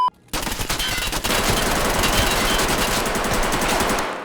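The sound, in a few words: gunfire in the video game Escape from Tarkov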